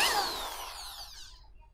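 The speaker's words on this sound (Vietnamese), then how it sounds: "bây giờ Minh Châu sẽ bắn tôn để các bạn chị tham khảo thử nhá" A power drill with a 13 mm chuck drives into a metal roofing sheet, giving one close, loud whirring burst whose pitch slides down as it winds off over under two seconds.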